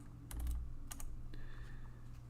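Keys click on a computer keyboard while someone codes, a few quick keystrokes in short bursts, close but faint over a low steady hum, with no talking.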